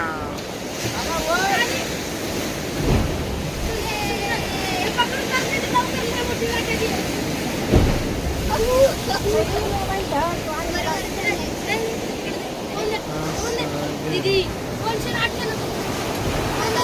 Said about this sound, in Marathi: लाटा एवढ्या मोठ्या आहेत मित्रांनो